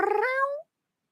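A pet cat gives a single clear meow, close and fairly loud, rising and then falling away into silence.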